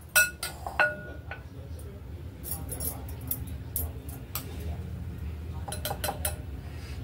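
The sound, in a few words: spoon clinking while filling veg momos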